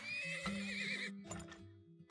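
A horse hitched to a wagon in the oil-drilling video game Turmoil gives a close, clear whinny, followed by a few soft clip-clop hoofbeats.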